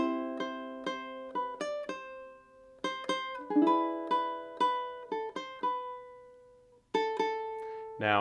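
Ukulele plays the intro of a song leading into the verse, with plucked notes and strummed chords ringing out in a steady rhythm, clear and close with no talking, ending on a fuller strum.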